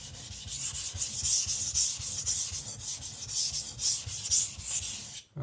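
A thin-edged Zwilling petty knife is rubbed against a sharpening stone in quick, even back-and-forth strokes, a close, soft scraping that repeats steadily before stopping abruptly near the end.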